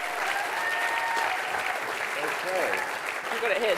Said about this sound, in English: Round of applause again, everyone.